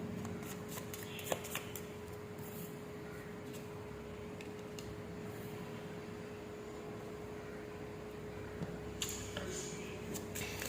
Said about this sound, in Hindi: पहले मैं सारे कार्ड शफल करूंगी।